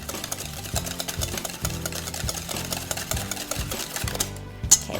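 A sweetener mixture for lemon protein bars is whipped until frothy, giving a rapid mechanical whirring with rhythmic pulsing bursts that runs steadily at moderate level and stops near the end.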